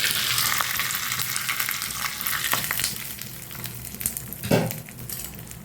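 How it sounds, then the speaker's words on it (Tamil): Mustard seeds and curry leaves tempering in hot oil for a spicy mint chutney, giving a loud, steady sizzle with a few sharper crackling bursts and no talk. "இப்போ நம்ம தாளிச்சிடலாம். கொஞ்சம் கடுகு,"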